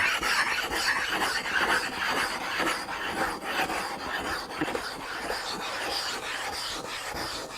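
Telescope mirror glass being rough-ground against a glass tool, a continuous close gritty rasping and scraping in steady back-and-forth strokes.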